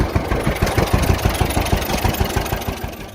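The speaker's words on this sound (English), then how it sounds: "the distinctive pop-pop-pop of its two-cylinder engine still resonates at farm festivals" A John Deere Model B two-cylinder tractor engine runs with a steady, loping pop-pop-pop, loud and close, each firing pulse distinct and evenly spaced throughout.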